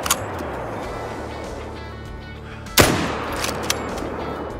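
A single loud hunting rifle gunshot cracks out in the video game Call of the Wild, followed by a rolling echo, with fainter distant shots and a steady background of ambient noise.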